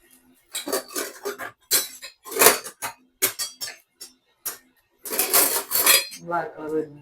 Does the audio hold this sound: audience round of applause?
no